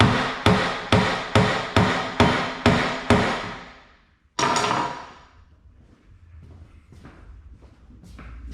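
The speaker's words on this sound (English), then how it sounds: "We'll try knocking on here a little bit and see where we get with that." A hammer knocks on a rusty vise, seven evenly spaced heavy metallic blows in quick succession, then one louder ringing strike followed by quiet shuffling and handling noises.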